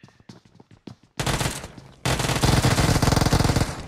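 An Uzi submachine gun fires in a video game during an esports playoff match: a few sparse clicks and shots give way to loud, sustained rapid bursts, the fire growing denser and heavier toward the end.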